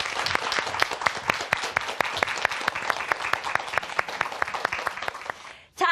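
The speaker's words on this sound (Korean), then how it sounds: "박수로 저희 박현영 선생님의 강의 청해도록 하겠습니다" An audience at a parenting lecture on children's English education claps to welcome the lecturer, a dense, sustained round of applause that fades out at the end.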